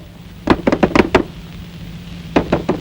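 A door is rapped in a Tamil comedy film scene from Thazhuvatha Kaigal. Five or six close, loud knocks come in a quick cluster, then a quiet gap, then three more knocks near the end, with no speech.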